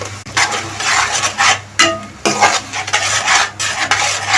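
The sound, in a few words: frying and stirring tomatoes and tomato paste in a pan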